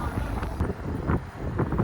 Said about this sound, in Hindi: यहाँ से तेज हवा है।